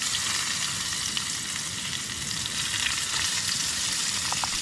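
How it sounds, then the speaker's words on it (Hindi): Onions frying in a pan for chicken curry at a night campsite, a steady dense sizzle that holds evenly throughout with faint crackles, close and alone with no talk. "प्याज जो है यहाँ पे डाल के थोड़ा बहुत चला लेता हूँ इसको"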